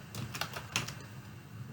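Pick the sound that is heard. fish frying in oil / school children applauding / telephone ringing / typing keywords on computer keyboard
typing keywords on computer keyboard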